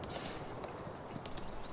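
Horse hooves clip-clopping while riding in the farming game Landwirtschafts-Simulator 19, a quick steady run of soft hoofbeats, fairly faint and close, with no talk over them.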